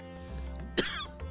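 A single sharp cough from a person with a cold bursts out close by, briefly rising above a soft musical background.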